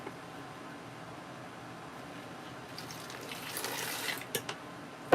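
Steady trickle of water running, growing louder and splashier toward the end, with a couple of sharper splashes at the finish.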